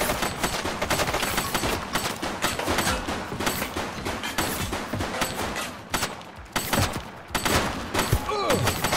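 A suspect firing at police in The Precinct: sustained rapid gunshots, near and loud, in continuous bursts with brief gaps, mixed with occasional voices.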